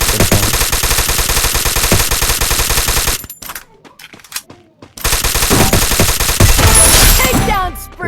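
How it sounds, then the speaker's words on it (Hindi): Rapid automatic gunfire from enemies in a shooting video game, dense bursts that break off into a brief lull, then resume loud with overlapping shots and impacts. "पीछे से एनिमी फायर होता है"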